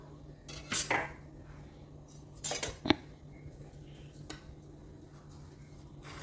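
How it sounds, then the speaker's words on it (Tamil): Roasted semolina for rava idli scraped and tipped into a metal vessel, with a few sharp clinks and scrapes of a spoon against the pot amid quiet pauses. "ரவை வறுப்பட்டாச்சு. ஒரு பாத்திரத்தில் போட்டுக்கணும்."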